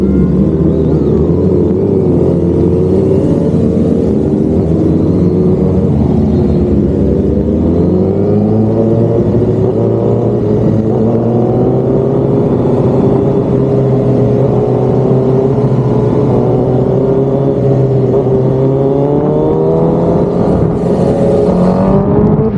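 Sport motorcycles, among them a Kawasaki H2, a BMW, a Rusi Z1000 and Honda CBR Fireblades, idle and rev nearby. A loud, continuous engine drone climbs and falls in pitch over about twenty seconds with no speech.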